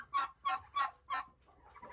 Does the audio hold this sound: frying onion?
no